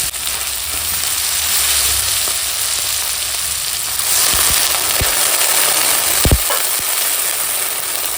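Chopped tomatoes and greens sizzle in oil in a pan with a loud, steady frying hiss, broken by a few sharp clinks of a spatula against the pan near the end, with no talk.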